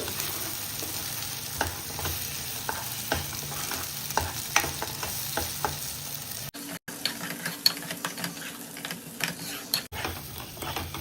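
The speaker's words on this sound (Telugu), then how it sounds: "ఇలా ఆయిల్ పైకి తేలే వరకు మనం దీన్ని ఫ్రై చేసుకోవాలి." A paste for paneer butter masala frying in oil, with a continuous sizzle and frequent clicks and scrapes of stirring, close and moderately loud, broken by a couple of brief dropouts.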